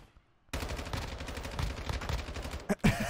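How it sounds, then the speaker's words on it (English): Rapid bursts of muffled, suppressed gunfire in Call of Duty DMZ, a steady rattling volley with a couple of sharper hits near the end. "And I hear some silenced gunfire."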